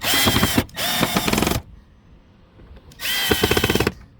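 A power driver whirs in three loud bursts with a ratcheting, chattering edge, cranking down the screws on a Jeep Grand Cherokee engine air filter housing, with a quiet pause between the second and third runs.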